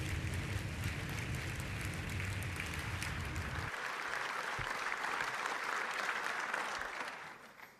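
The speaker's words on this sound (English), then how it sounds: "Quite a big round of applause, everyone, for Leonardo van Del." Applause from an audience at an event, a dense sustained clatter of many hands that holds steady, then thins and fades toward the end.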